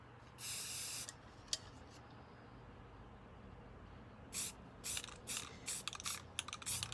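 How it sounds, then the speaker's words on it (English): A spray paint can coats a tumbler in short bursts of hiss. One longer spray comes first, then a quick run of brief spurts close by, with quiet pauses between them and no voices. "You want to make sure when you spray just to kind of go in like spurts and hold your can back."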